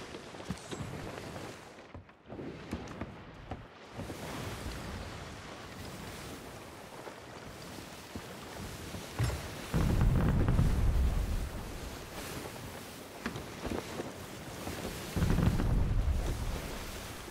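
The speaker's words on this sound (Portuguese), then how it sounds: "é lá onde tá aquele vulcão em erupção ali?" Volcano erupting in the pirate video game Sea of Thieves gives a continuous rumbling roar mixed with wind and ocean surf, with heavy deep booms swelling twice, steady and loud throughout with no speech.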